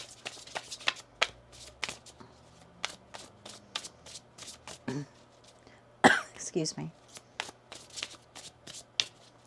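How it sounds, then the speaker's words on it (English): A deck of tarot cards being shuffled in a quiet room, crisp riffling bursts in quick rhythmic runs, close up, interrupted by a brief cough and a short spoken apology. "One more shuffle here."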